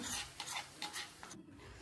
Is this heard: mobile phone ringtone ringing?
no